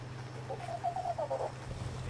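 A bird in the video game Ark gives a short clucking call lasting about a second, mid-loud over a steady low hum of game background.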